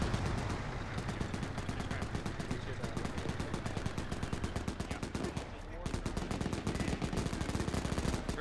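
Dense, rapid gunfire from ArmA 3 combat: rattling machine-gun bursts and overlapping shots fire continuously, close and loud, with a short lull near the middle before the volley resumes at full intensity.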